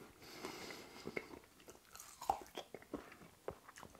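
Someone bites into and chews crunchy Hong Kong-style Cantonese sweet and sour pork ribs, close up, with irregular crisp crunches and wet chewing sounds over a few seconds and no talk.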